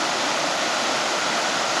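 Glacial creek with blue-tinged water rushing steadily along a mountain trail on the Goldmeyer alternate, a loud, close, continuous wash of flowing water with no voices.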